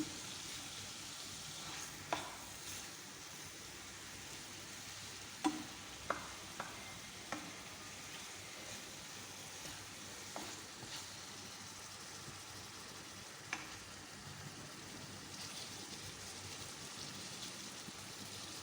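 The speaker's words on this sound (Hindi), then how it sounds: "फिर उसकी भुनाई जब कर रहे होते हैं ना, काफ़ी ज़्यादा आवाज़ आती है तेज़" Masala for chicken tikka masala sizzles steadily in a pan while being fried, a soft continuous crackle close by with occasional sharp taps and scrapes of stirring.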